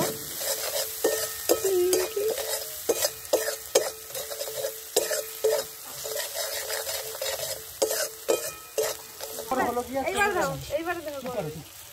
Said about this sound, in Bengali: জিরের গুঁড়ো আর ধনিয়ার গুঁড়ো দিয়ে এবার এটাকে একটু ভেজে নেব।